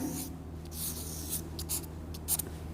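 Marker or chalk writes on a board during a maths lesson on GST, with faint, brief squeaky strokes in short bursts over a steady low room hum.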